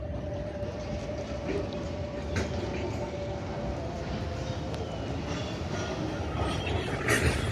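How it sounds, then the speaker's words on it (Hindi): A train hauled by a GEU40 locomotive rolls through the yard at Badamibagh station, a steady rumbling drone of wheels and wagons with faint clatter and occasional squeal, continuous and moderately loud throughout. "ये जी अब लोकोमोटिव नज़र आ रहा है, ये देखें। लोकोमोटिव नज़र आना शुरू हो गया जी।"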